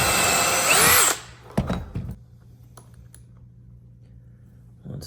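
A power drill driving a screw into a bifold door's top track, one loud whirring burst lasting about a second, followed by a few clicks and knocks and a quiet room.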